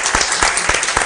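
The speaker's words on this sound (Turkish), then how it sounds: "Alkışlar olalım." Audience applause at a civic gathering with a mayor present, a dense burst of many hands clapping close and loud, with a few sharper claps standing out.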